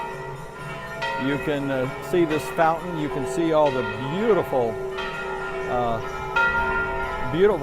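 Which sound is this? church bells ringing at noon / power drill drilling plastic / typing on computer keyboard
church bells ringing at noon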